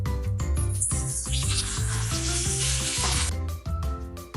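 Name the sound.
boiled three-layer pork belly frying in a pan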